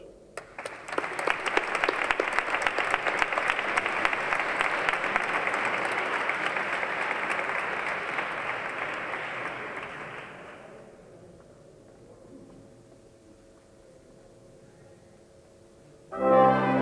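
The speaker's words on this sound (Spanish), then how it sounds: "Pido un aplauso para ellos" Audience applause for a wind and brass quintet at a saeta exaltation evening, a dense, steady round of clapping lasting about ten seconds before fading to quiet room tone, with a brief louder burst at the very end.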